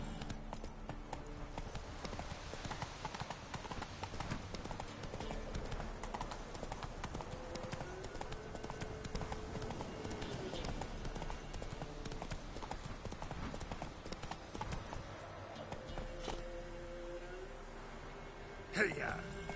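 Horse hooves clip-clop steadily and continuously in The Witcher video game, a rhythmic trot running under faint game sounds, with a brief sharper knock near the end.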